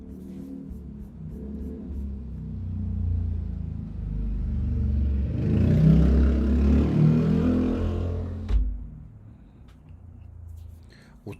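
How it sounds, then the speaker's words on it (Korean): A loud motorcycle engine rumbles nearby, a deep throaty roar that swells in the middle and then fades, with a voice talking over it. "오토바이 소리가 되게 우렁차네요."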